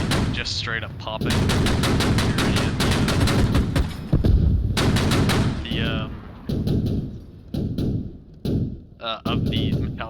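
An armored vehicle's gun firing at range in the video game Squad, heard as rapid bursts of sharp popping shots in long strings with brief gaps and a few short pauses, loud and dense.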